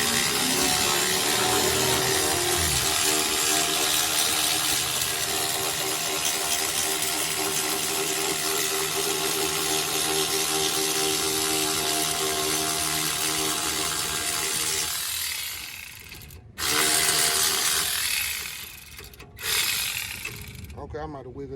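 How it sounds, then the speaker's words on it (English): Ratchet wrench turning an 18 millimeter bolt while removing parts from a Dodge Charger at a junkyard; steady, continuous clicking and grinding runs for about fifteen seconds, then breaks into short bursts with brief pauses. "Switch to the ratchet."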